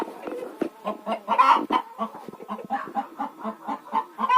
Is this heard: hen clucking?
yes